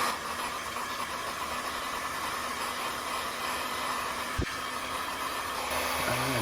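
A heat gun blows steadily on faded plastic automotive trim, a constant airy hiss with a low hum running unbroken from start to finish, close and fairly loud, with one brief click partway through.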